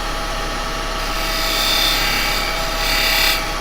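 A wood lathe spins while a detail chisel cuts a small chamfer, giving a steady, loud scraping rasp over the machine's hum. The cut swells briefly twice in the middle and toward the end.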